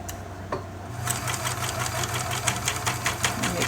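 A serger stitching a single seam on a doll's raglan shirt, its motor starting after a brief pause and then running in a fast, steady mechanical chatter close by.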